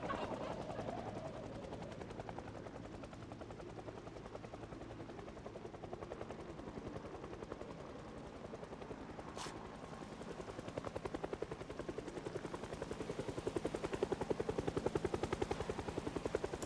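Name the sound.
helicopter flying overhead in video game Project Zomboid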